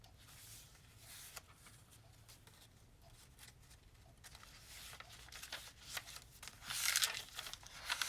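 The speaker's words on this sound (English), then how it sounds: "I love the sound that that tracing paper makes when you turn it." Tracing paper pages in a junk journal turn with faint crisp rustles and crinkles, growing louder near the end with a sharper papery crackle, no speech.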